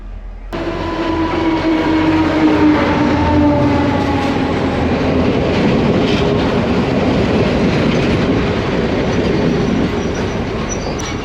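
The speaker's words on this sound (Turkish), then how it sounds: "Evet karşıdan tren bekliyorduk. O trenle geldi." A train rolls past loudly and close, a rumbling roar with squealing wheels and a rhythmic clatter that slowly fades toward the end.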